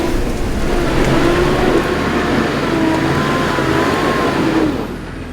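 Nissan Patrol engine revving hard while climbing a steep, slippery track, a sustained loud labouring roar with rough, gritty texture that drops off near the end.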